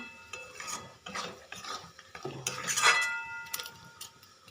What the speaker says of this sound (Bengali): এবার ধনে পাতাটা দিয়ে খুব ভালো করে আমি মিশিয়ে নিচ্ছি